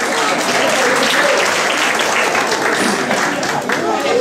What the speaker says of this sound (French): Bien content, vous pouvez vous applaudir